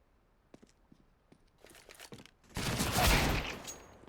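Pistol gunfire during a Counter-Strike match: a few sparse shots in the first half, then a dense, loud burst of rapid fire lasting over a second, with no voices.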